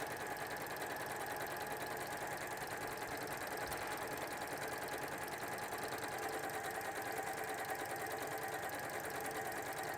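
A sewing machine runs steadily for the full stretch, stitching a quarter-inch seam through linen for a dog cushion. The motor keeps a continuous, even mechanical whir with no breaks and no voices.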